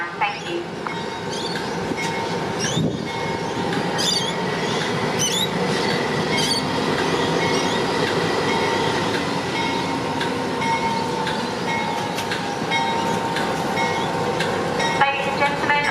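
The Overland passenger train pulling out of Adelaide Parklands station, a continuous rumble of rolling stock with wheel squeals and clatter along the platform, while a voice speaks over it partway through.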